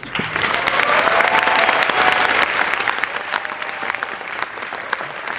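Audience applause at the 30th Yoo Jae-ha Music Competition in 2019, a dense, steady wash of many hands clapping that carries on loudly throughout and eases slightly toward the end, with faint voices underneath.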